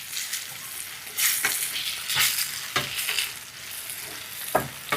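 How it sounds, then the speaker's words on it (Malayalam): Tamarind and curry leaves being sautéed in a pan, with soft continuous sizzling and sharp scraping stirs at irregular intervals, close up and without talk. "അതില്ലേ പുളിയും കൂടി ഇട്ടിട്ട് നമുക്ക് ഒന്നും കൂടി വഴറ്റിയെടുക്കണം"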